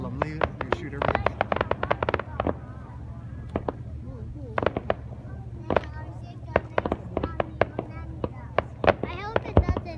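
Canada Day fireworks over Steveston in Richmond pop and bang in rapid irregular bursts, some sharp and close, with crowd voices chatting throughout.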